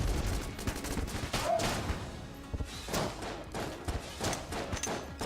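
Explosions and gunfire in the video game Enter the Gungeon, a dense run of loud booming and crackling blasts with thuds scattered throughout.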